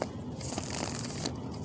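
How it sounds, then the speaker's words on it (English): Tarot cards being shuffled by hand in a quiet room, with a soft, dense riffling burst of about a second that rises and falls away, close and fairly gentle. "One more shuffle for the Gemini, the double talker here"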